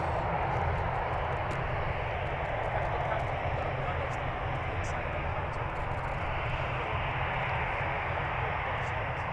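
The airliner Love Dancer departs Manchester Airport, giving a sustained, broad engine roar that stays steady and fairly distant for the whole span.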